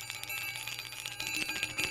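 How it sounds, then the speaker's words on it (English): A bright bicycle-style bell rings in rapid, continuous trills, close and loud, with no voices. "drum roll or ringing bells"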